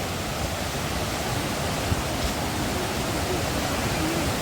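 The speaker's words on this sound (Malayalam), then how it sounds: "അപ്പോൾ നമ്മൾ മണ്ണൂർ വാട്ടർഫോൾസിൽ എത്തിയിരിക്കുകയാണ്." Mannira waterfall in a Konni forest roars as a constant, dense wash of falling water, steady and unbroken throughout with no voices.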